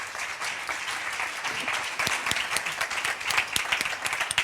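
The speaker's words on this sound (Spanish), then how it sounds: "lo recibamos con un fuerte aplauso" An audience at a veterinary industry symposium applauds to welcome a speaker, a moderately loud, steady patter of many hands with sharper individual claps standing out as it builds slightly toward the end.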